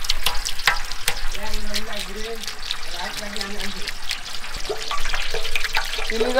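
Onions dropped into three litres of hot soybean oil in a big pot for a village feast crackle and spatter loudly up close, with sharp pops throughout and voices talking over the frying.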